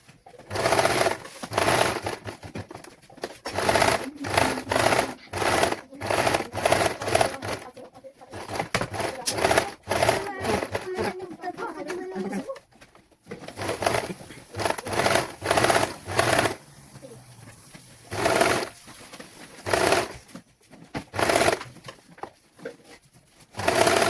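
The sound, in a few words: sewing machine stitching lining fabric of baby langot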